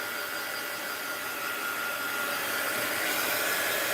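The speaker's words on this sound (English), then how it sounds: "So let's dry this. Hopefully now. Yep, there we go. I'm not ready to buy a new heat gun." A heat gun blows a steady, loud airflow whine close by while drying stained fabric for a postcard, a continuous rushing hiss with no talk.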